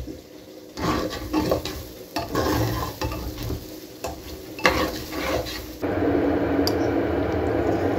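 Spices and salt with chili and cumin powder frying and being stirred in a pan, steady sizzling broken by scraping, squishing stirs, with a louder, fuller sizzle toward the end.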